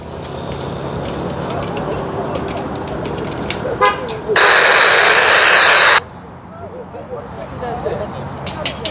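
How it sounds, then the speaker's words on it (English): A radio scanning between channels bursts into a loud, steady hiss of white noise for about two seconds, cutting in and out abruptly amid background talk and street sounds. "That noise all of a sudden you can hear like white noise, that's just where the radio's scanning and attempting to pick up different things."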